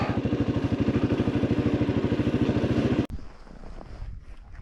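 An adventure motorcycle rides through lava fields on the McKenzie Pass route, its engine throbbing in a steady, fast pulsing beat before cutting abruptly to rushing wind noise.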